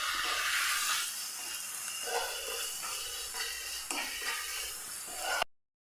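Turmeric and garam masala being stirred into a mixture in a pan, a steady close scraping and sizzling hiss running without pause, with faint brief clinks along the way and no talking.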